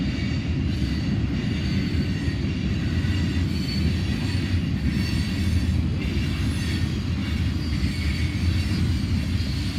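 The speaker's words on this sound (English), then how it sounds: "So this has got a little bit of everything here on this general merchandise train." A general merchandise freight train rolls past steadily at close range, a continuous heavy rumble of wheels and cars with faint rhythmic clatter and no voices.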